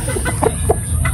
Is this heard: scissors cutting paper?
no